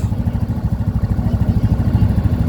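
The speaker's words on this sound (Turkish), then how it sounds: "Motorumuzu çalıştırdık." An RKS DES 125 motorcycle engine runs loud and close just after starting, settling into a steady, rapid idle pulse with no voices over it.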